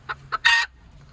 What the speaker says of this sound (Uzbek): Mana qora xo'roz.